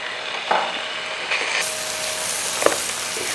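Food sizzling as it drops into a hot pan, a steady crackling fry with a few brief louder pops and stirring touches throughout.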